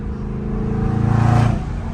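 Loud catless exhaust of a Dodge Charger Scat Pack in traffic, a deep rumbling burble swelling into a pulsing, throbbing roar at light throttle, close and continuous.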